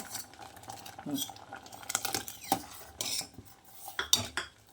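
A spoon clinks and scrapes against a pot while jackfruit payasa with ground coconut milk is stirred, quiet irregular metallic taps and swishes at close range.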